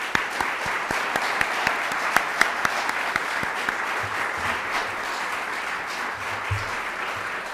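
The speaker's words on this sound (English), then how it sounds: "Let's give them a big round of applause." Steady applause fills a city budget proposal address in Rochester, New York, a dense, continuous clapping from an audience with no talk over it.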